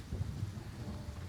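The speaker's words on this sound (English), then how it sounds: "we listen to the rain and the ambiance" Steady rain ambience in the Gray Zone video game, a soft continuous patter with a low rumble underneath, fairly quiet and with no speech.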